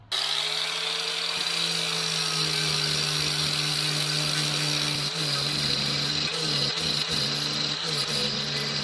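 A power tool grinds about an eighth of an inch off a metal part for a Kubota BX backhoe, a steady loud whine running the whole time with a few brief dips and catches near the end.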